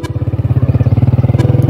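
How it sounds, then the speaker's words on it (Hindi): A motorcycle engine putters close by with a fast, regular pulsing beat during a ride to a bazaar, loud and steady with no speech over it. "आज बाइक पे आए तो मुझे इतना डर लगा, लेकिन है मैंने कहा नदीम को पकड़ लिया"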